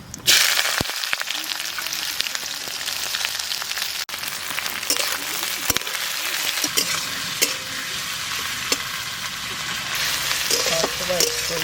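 Onions, dried chillies and cumin fry in a pan, a loud dense sizzle running throughout with intermittent stirring scrapes and clicks, close and continuous with a brief dip early on.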